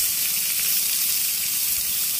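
Cabbage, carrot, ginger and garlic fry in a pan, producing a loud, steady, hissing sizzle with no pauses.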